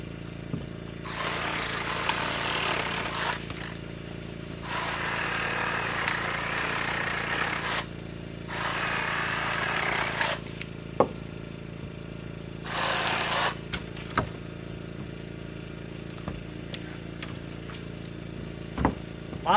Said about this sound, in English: So I brought my sawzall down to help cut the tops of these 4x4s off,